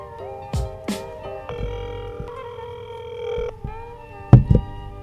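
A telephone call ringing out, with a handful of tonal ring bursts and dialing beeps, steady electronic tones that stop and start in a short uneven pattern and stand alone without talk.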